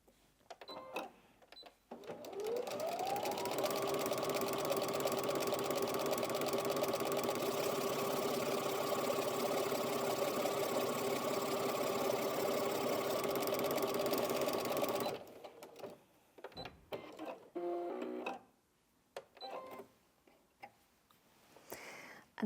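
A Brother Innov-is NV1800Q sewing machine whirs up and runs a triple straight stitch at a steady, even pace for about twelve seconds, then stops, followed by a few soft handling clicks and rustles.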